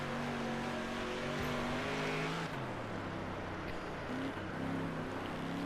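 A street stock race car in the Dirt Racing video game roars loudly and continuously, its engine pitch rising and falling as it accelerates and lifts through the corners.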